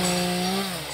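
A chainsaw drones steadily at close range, its engine whine holding a constant pitch and then easing slightly toward the end, with no voices.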